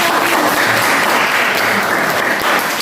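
A classroom of pupils claps loudly and continuously together for a group's work, a dense, close burst of hand-clapping with no talk.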